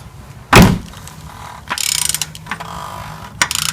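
A ratchet works on the oil filter housing of a Toyota Sienna with a 2GR-FE V6, giving one sharp loud knock and then a short run of quick, close clicking, with a few scattered metallic taps after it.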